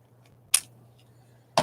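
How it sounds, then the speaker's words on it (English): Two short, crisp snips of scissors cutting paper while making a glue book from a calendar at a desk, spaced about a second apart over a quiet low hum. "I'm going to make a big mess on my desk with all the scissors"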